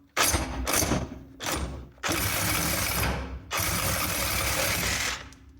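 A power tool cuts through the front shock stud just below the nut on a 2002 Ford Ranger, loud grinding bursts separated by short pauses, then a longer sustained cut that fades out.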